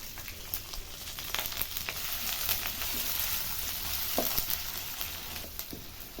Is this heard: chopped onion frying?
yes